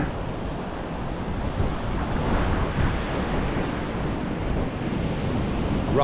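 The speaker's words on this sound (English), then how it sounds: "The rough old sea." Rough sea surf breaking steadily on a Vietnamese shore, a continuous loud wash of crashing waves with wind buffeting the microphone and no voices.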